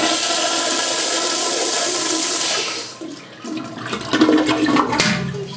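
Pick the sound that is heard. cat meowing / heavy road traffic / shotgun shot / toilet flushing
toilet flushing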